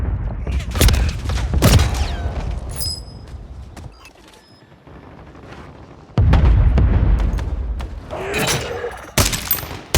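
Heavy gunfire and explosive booms ring out in the video game Warzone 3, with bursts of rapid shots and loud impacts broken by a short quieter stretch midway.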